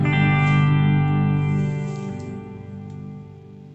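An electric guitar plays through a HeadRush unit with a reverb effect and the delay off, sustaining a dense chord that slowly decays into a long, washy tail, loud and without talking.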